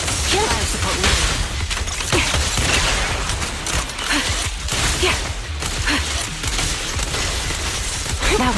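Rapid gunfire barrage from fire support in the video game Zenless Zone Zero, a dense, loud, continuous rattle with booming low rumble and mechanical clatter throughout.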